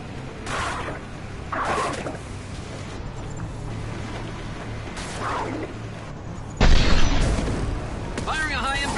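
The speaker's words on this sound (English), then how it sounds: "Firing a high-impact shot!" Heavy weapon blasts in Mass Effect 2 Legendary Edition: several dull booms spaced through a battle, a louder impact near the end, with combat voices and shouts scattered among them.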